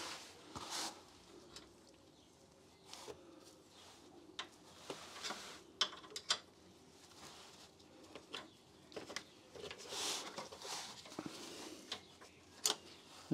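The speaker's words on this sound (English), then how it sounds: "I'm just gonna unbolt this bracket here that holds this pipe in place." Ratchet clicking as a 10 mm bolt is undone on a bracket holding a pipe on a BMW, giving quiet, irregular ticks and short clicks that come close together over low workshop background.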